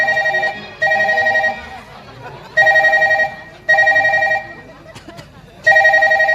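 A telephone rings in loud, regular electronic bursts, five rings separated by short pauses, close and clear with faint background noise between them.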